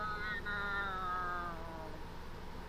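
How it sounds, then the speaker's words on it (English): An agitated house cat lets out a single drawn-out, wavering meow that slides downward and fades, heard fairly faintly over a quiet indoor background. "It's called the agitated meow."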